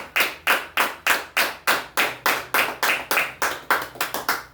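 A church congregation claps in a steady, strong rhythmic beat during a sermon, evenly spaced loud claps repeating about three times per second, with no voices.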